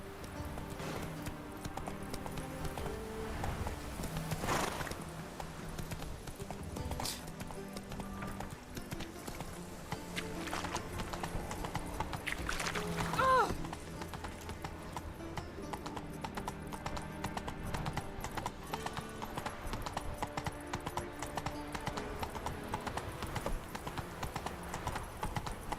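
Roach, the horse in The Witcher 3 game, gallops with a continuous rapid clatter of hooves, steady and moderately loud under game ambience throughout, with a brief louder swell in the middle.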